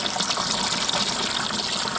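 Water gushes steadily into a barrel being filled to test a 1998 40 HP Mercury Force outboard, a close, continuous rushing splash with no pauses.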